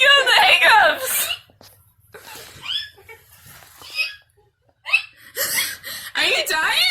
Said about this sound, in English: It sounds like you have the hiccups.